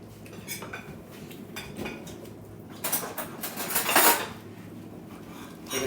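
Salt being stirred into food in a bowl with a utensil, giving light clinking and scraping of metal against the dish in quiet bursts, louder near the end.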